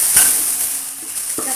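Ground spice paste for chicken gulai sautéing in hot oil in a pan: a steady, close sizzling hiss, with a couple of brief scrapes near the start and end.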